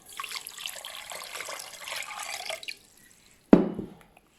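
Water for a homemade honey syrup pours into a pan for a couple of seconds, a close splashing trickle that stops, followed by a single sharp clunk.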